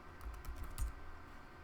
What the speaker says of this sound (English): And actually type.